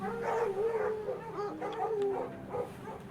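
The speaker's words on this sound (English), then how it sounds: "The animals are barking furiously at the green that has invaded their territory." Dogs in the video game The Pale Beyond, set aboard a ship trapped in ice, howling and yelping in a continuous agitated chorus, fairly close and unbroken by talk.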